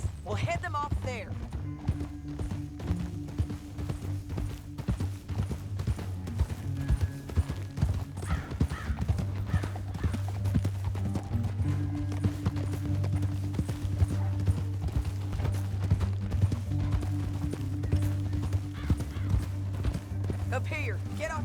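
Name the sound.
horses galloping in video game Red Dead Redemption 2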